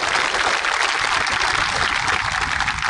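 An audience at a political rally breaks into applause, a dense, steady wash of clapping filling the whole moment without a pause.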